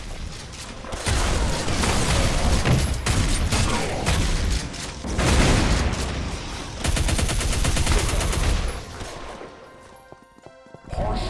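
Relentless rapid gunfire and crashing explosions from a modded Doom first-person shooter, loud and dense for most of the stretch with barely a pause before easing off near the end.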